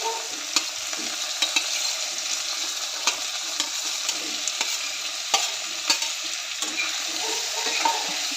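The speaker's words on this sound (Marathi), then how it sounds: "सर्व कांदा टोमॅटो भेंडी चांगलं परतून घेऊया" Chopped onion, tomato and one-inch okra pieces are sautéed in a pan. A continuous bright sizzle carries a quick series of spoon scrapes and clicks against the pan, with no voices.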